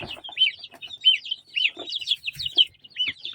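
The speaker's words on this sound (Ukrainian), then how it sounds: "І ось наші курчатка." Young chicks cheep repeatedly, high thin peeping calls in quick bursts, close by, with faint scuffling underneath.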